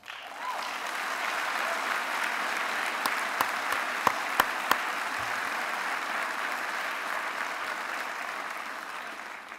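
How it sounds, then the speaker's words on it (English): Graduates at a Mohawk College engineering technology convocation give a sustained, even round of applause from a large hall, with a few sharp clicks partway through and faint talk underneath. "How about you now give a round of applause to everyone who helped you get to this moment."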